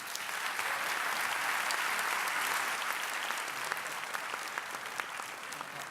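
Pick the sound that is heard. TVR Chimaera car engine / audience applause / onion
audience applause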